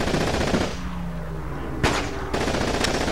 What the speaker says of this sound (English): Now we have to take out that machine gun!